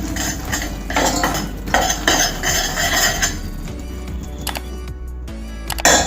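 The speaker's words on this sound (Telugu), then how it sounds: "ఇదంతా ఒకసారి కలిపేసుకోవాలి." A spoon stirs a laddu mixture of ghee, cardamom powder and other ingredients in a metal vessel, giving repeated close clinks and scrapes in an uneven rhythm, with no voices.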